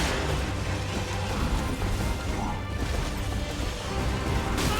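A heavy horse slam attack lands in the video game Elden Ring, a loud crashing impact set within a dense, continuous mix of combat noise and game sound throughout.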